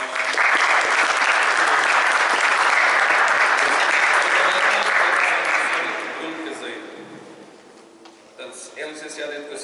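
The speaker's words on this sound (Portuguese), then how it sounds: "uma salva de palmas." Audience applause for basketball coach Mário Silva at a minibasketball clinic run by the Alentejo basketball association, a loud sustained crowd clapping for about six seconds that then fades, with speech resuming near the end.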